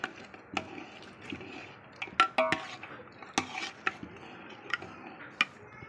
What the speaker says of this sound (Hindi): अब हम इसको यूँ चला चला करके घोट लेंगे